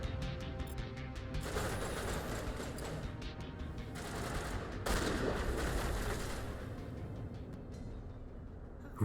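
Gunfire barrage in the Mass Effect video game, a dense continuous rattle of automatic weapons with crashing impacts, loud and unbroken throughout, with no voices.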